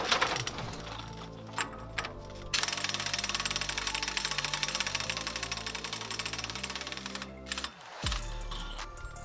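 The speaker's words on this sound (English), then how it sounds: "first I'm going to try it with the impact wrench" A pneumatic impact wrench hammers loudly in rapid, rattling bursts on a Toyota Tacoma's CV axle nut through a 35mm socket, with short pauses and a final burst before cutting off.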